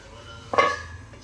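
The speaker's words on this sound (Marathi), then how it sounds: "आता यावर आपण झाकण ठेवूया." A lid set down on an appe pan holding rava appe batter, a single short metallic clink close by against low background hum.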